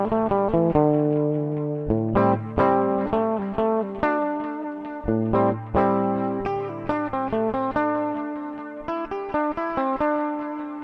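Electric guitar played through effects, loose improvised noodling with sustained, distorted notes and quick runs, close and continuous with no voices over it.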